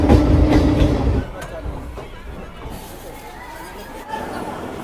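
A crowded Ranaghat local train runs along the rails toward Sealdah, a steady rumbling ride that is louder at the start, then settles into a lower clatter, with faint passenger chatter mixed in.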